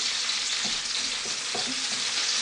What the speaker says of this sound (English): You need to fry these onions till a little transparent in color